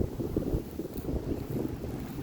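Wind gusts buffet the microphone outdoors at a graveyard beside a Baptist church, a low, rumbling, fluttering roar that stays fairly loud and uneven throughout.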